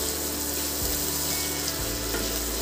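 Onion fried together with garlic and green chilli paste in hot oil, a loud dense continuous sizzle that holds steady throughout with no pauses.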